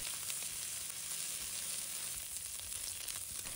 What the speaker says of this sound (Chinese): 把虾米放入锅中，把它炒香